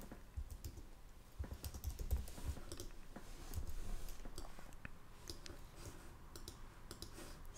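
Rapid, irregular clicking of a computer keyboard as a headline is typed for a website design, close and steady with no talking.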